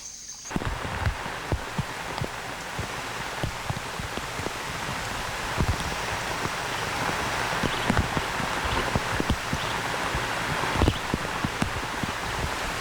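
Rain falls steadily in a rainforest on Barro Colorado Island, a close, constant patter with scattered heavier drips striking leaves and surfaces, and no talking.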